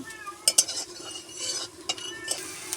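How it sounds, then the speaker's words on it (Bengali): Three cardamom pods and three cinnamon sticks go into hot oil for tempering, and a light sizzle follows with a few sharp utensil clinks and stirring scrapes close by. "তিনটে এলাচ তিনটে দারচিনি এবার আমি ফোড়নে দিয়ে দেবো"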